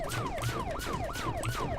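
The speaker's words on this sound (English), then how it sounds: "We now hear sirens as cop cars drive by here." Police car sirens in an arcade-style video game wail in a rapid, repeating rising-and-falling pattern, loud and continuous as the cars pass, with no voices over them.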